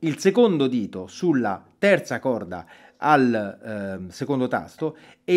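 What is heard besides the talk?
No everyday noise stands out behind the speech.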